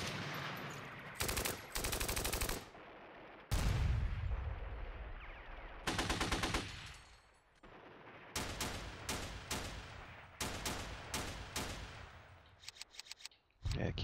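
Tanks fire in the Steel Panthers game, set in a 1980 Iran-Iraq war battle, with loud bursts of machine-gun fire and single heavy shots in repeated clusters, broken by short quiet gaps.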